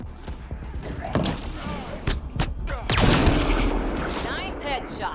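Gunfire in the video game Mass Effect Andromeda comes as sharp cracks and bursts of shots with thuds and a booming impact, mixed with game sound effects and spoken lines.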